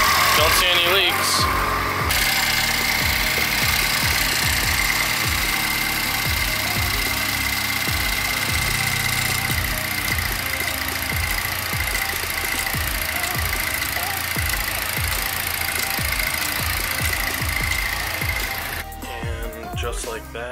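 A turbocharged Chevrolet Cobalt SS fires up for the first time after an intake valve cleaning and settles into a loud, close idle with a rapid ticking rhythm, then cuts off near the end.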